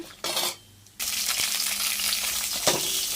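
Tomatoes frying in oil in a pan, a steady hissing sizzle that starts after a brief quiet gap, with a soft clink partway through and a louder stirring scrape near the end.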